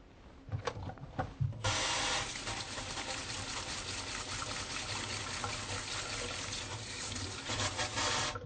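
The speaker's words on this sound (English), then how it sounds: "first I'm going to wash my hands" Water runs steadily from a tap as hands are washed before a medical examination, a continuous close splashing hiss that starts after a few brief knocks and carries on alone without talk.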